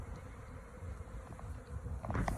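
Honeybees buzz in a steady, low hum close by as a swarm tries to move into a new hive, faint and continuous with no talking.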